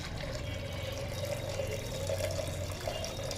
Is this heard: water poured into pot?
yes